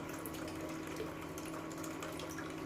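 Water poured gently off soaked millet into another vessel makes a continuous close, soft pouring and trickling rush that stays even throughout, with no voices.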